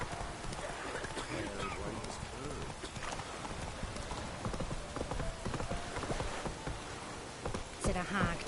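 Horse hooves clip-clopping at a steady ride in The Witcher 3, a continuous rhythmic clatter of footfalls close by, with game voices talking over the hoofbeats.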